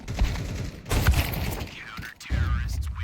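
AK rifle fire in a Counter-Strike esports match, rapid bursts of shots and mechanical clatter loud in the foreground, mixed with game effects and brief commentary.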